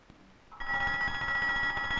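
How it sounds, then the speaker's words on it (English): An alarm bell in an office rings out suddenly and loudly, a continuous metallic electric ringing that starts after a brief quiet moment and keeps going without pause. "That's the alarm in Tillinger's office."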